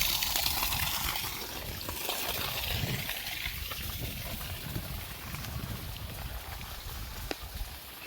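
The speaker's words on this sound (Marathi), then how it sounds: "पाण्याचं प्रेशर पाहून घेतो" A steady rushing gush of water pours continuously from a solar-powered borewell pump pipe, fairly loud and unbroken throughout.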